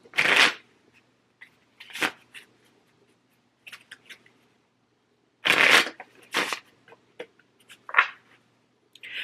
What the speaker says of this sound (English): and we'll shuffle